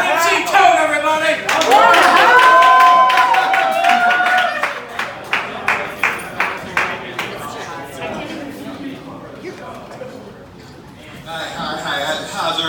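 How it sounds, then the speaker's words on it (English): A crowd applauds loudly at a live show at the Art Bar, with a host's voice over the noise; the applause fades into rhythmic claps, then a voice speaks alone. "Let's give Joe one more round of applause there."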